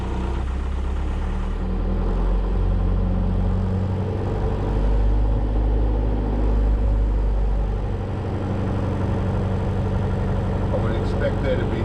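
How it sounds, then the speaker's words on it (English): A 6x6 Perentie ambulance diesel engine with a turbo runs steadily near the microphone, holding a loud, low, continuous drone for about twelve seconds with slight swells in pitch as revs rise. "let's pull it up to a higher revs."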